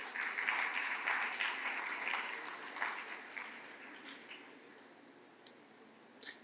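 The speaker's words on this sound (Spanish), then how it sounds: "Fuerte el aplauso para él, por favor." Applause for Ricardo from a church congregation at a Sunday service, fairly loud clapping at first that gradually fades and thins out over several seconds.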